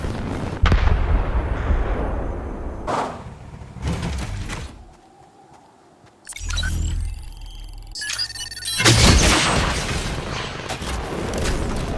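Anti-vehicle rocket launcher fire in the Fortnite video game: a loud barrage of booming launches and explosions, close and heavy, with a brief lull around the middle before more blasts and crackling detonations resume.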